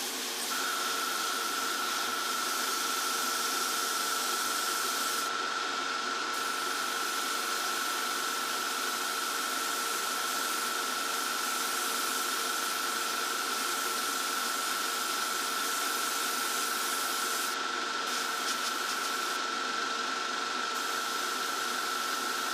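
An airbrush lays a light mist coat of paint on a Tamiya 1:35 T-55A tank model, giving a steady, close hiss of air with a thin high whine that runs unbroken and alone for the whole stretch.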